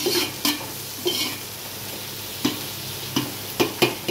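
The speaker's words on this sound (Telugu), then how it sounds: "ఇప్పుడు ఇది కలుపుకోవాలండి" Ingredients for bagara rice sizzle gently in a small amount of oil in a pan, with a few distinct, close stirring scrapes spaced irregularly over the soft hiss.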